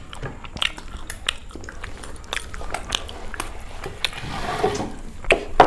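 Someone chews and bites into biryani, chicken lollipop and egg roll, giving close, wet crunches and clicky bites at an irregular rhythm. The chewing grows busier and louder toward the end.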